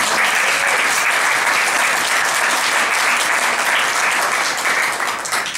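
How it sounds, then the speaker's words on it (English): Dense, loud audience applause for a presenter named Sarah, a continuous wash of many hands clapping for over five seconds, easing slightly near the end. "Round of applause for Sarah"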